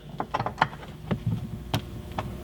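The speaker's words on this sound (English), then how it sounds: "We then use a 7/8 12-point socket and tighten this up." A ratchet wrench with a 7/8-inch 12-point socket tightens a bolt while a metal grab handle is installed, giving a series of close, sharp clicking strokes in irregular bursts with no talking.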